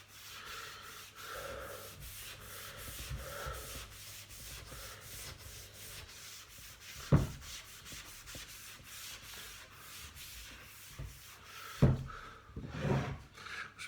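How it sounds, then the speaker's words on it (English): Steady, rhythmic rasping strokes of sandpaper worked by hand over a piece of wood, close and continuous for the whole stretch, with a couple of louder knocks and breaths near the end. "what I don't want to do is sand this so much that it loses any character it's got."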